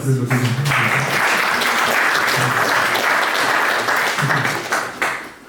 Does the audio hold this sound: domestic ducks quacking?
no